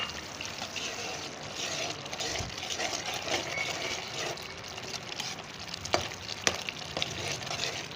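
Spices for chicken karahi sizzle and fry in a pan with a steady crackling hiss, stirred with occasional soft scrapes and a few sharper clicks near the end.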